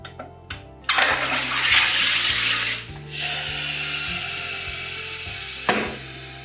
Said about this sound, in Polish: Najpierw robię wodę gazowaną w saturatorze Vesper Aqua Freeze.